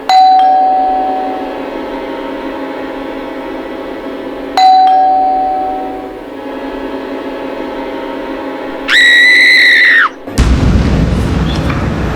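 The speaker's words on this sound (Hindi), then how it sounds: "तभी दरवाजे पर घंटी बजी।" Doorbell chimes at a home door in a crime drama scene, two loud ding tones ringing out and decaying, followed by a buzzing electronic ring and then a sudden noisy burst.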